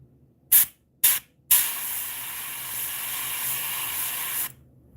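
Airbrush spraying paint onto a fishing lure with a juvenile rainbow trout pattern: two short hissing bursts, then one sustained close spray lasting about three seconds before it cuts off.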